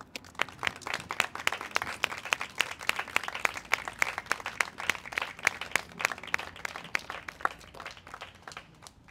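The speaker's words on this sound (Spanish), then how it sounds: "quiero darles un aplauso a todos ellos" An audience claps in sustained, fairly quiet applause at an outdoor public event, with dense, even rhythmic clapping that continues throughout.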